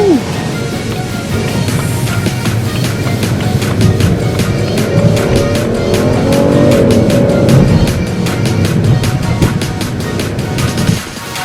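A BMW E92 325i drives and accelerates through a road tunnel, its engine note rising and falling with echoing, reverberant roar and passing whooshes, loud and continuous for about eleven seconds before cutting off.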